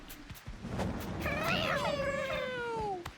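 A single drawn-out video game cat meow rises and then slowly falls, loud and close over a soft background hum.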